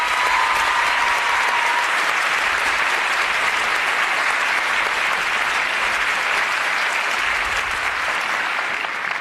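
Audience applause at a Persian-language event for deaf performers, a dense, steady roar of clapping filling the room throughout without a break.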